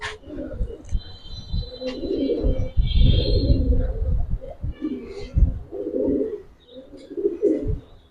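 Giribaz pigeons, including silver-necked birds, coo in low throaty rolls, several overlapping close by, with handling rustles and a faint high chirp over the cooing.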